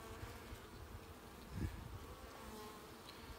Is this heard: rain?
no